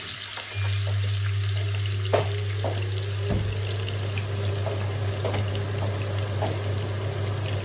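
Garlic fries in a pan for spicy cuttlefish adobo, a steady close sizzle with a few stirring knocks and a constant low hum underneath.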